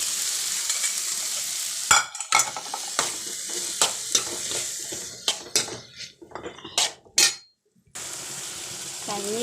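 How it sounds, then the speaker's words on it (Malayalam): Chinese potatoes (koorka) stirred and fried in a pan: a steady sizzling hiss broken by repeated scraping and clanking strokes of a spatula against the metal, with a brief quiet gap before the frying resumes. "കൂർക്ക ഇളക്കിക്കൊണ്ടിരിക്കുന്നു."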